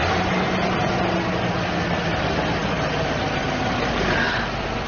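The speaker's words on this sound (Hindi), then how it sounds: "ये जर्मन इंजन का कमाल है भाई।" Old car with a German engine that had sat unused for years, running at a steady, loud, rumbling idle with constant low vibration throughout and no talking.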